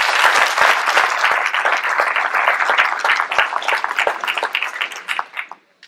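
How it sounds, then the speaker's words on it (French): An audience at a New Year's wishes ceremony applauds Isabelle, loud, close and dense clapping that holds steady, then thins into scattered claps and stops near the end. "On peut l'applaudir Isabelle."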